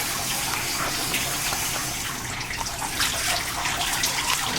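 Water poured over a person's back during a bath, a steady splashing gush running continuously and close by, with no talking during the pour.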